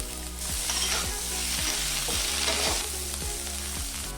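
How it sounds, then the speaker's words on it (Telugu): Cauliflower masala fried and stirred in a pan, a constant close sizzle with regular spatula scrapes and taps against the metal roughly every half second, no voices. "మాడిపోకుండా చూడాలి, అందుకే మనము ఇలా కలుపుతూ ఉండాలి"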